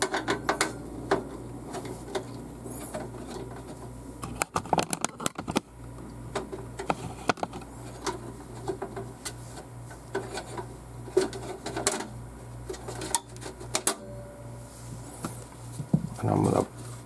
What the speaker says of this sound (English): so I'm going to remove those screws